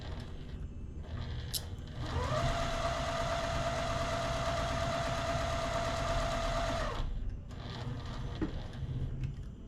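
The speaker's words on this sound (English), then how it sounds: "now we will sew right down and get a hold of my threads" A sewing machine stitching quilt fabric for a heart and granny-square quilt, running at a steady even hum with a fast mechanical rattle for about five seconds. Quieter handling noise comes before and after it, close by, with no talk.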